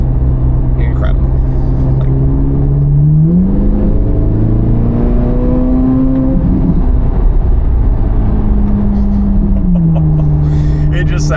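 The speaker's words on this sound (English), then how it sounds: "I love this V8 as well. In particular, the flat plane. It sounds incredible." Stock C8 Corvette Z06 flat-plane V8 running loud and close, a steady deep drone that climbs in pitch around the middle as the revs rise, then falls back, holding a continuous rumble throughout with no talking.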